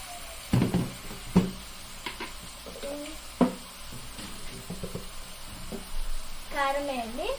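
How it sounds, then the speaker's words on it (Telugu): Amaranth leaves fry in oil with chili powder as a spoon stirs them through the pan, giving a steady close sizzle broken by a few sharp scraping knocks, with a voice speaking briefly near the end. "కారం వేసి కలపండి మంచిగా"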